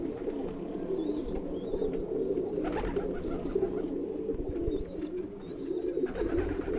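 Pigeons coo softly and repeatedly in a rooftop loft where a Firozpuri pair sits, low murmuring calls layered over steady ambient noise with occasional faint chirps.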